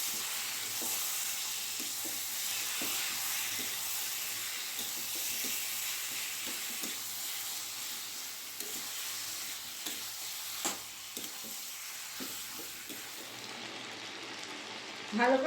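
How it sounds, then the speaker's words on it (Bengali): Chicken pieces sizzle with spices in a pan for a Bengali potato-chicken curry, a steady close hiss with regular scraping and clacking stir strokes, fairly soft and even throughout. "ভালো করে মশলার সাথে মাংসটা কষিয়ে নেব।"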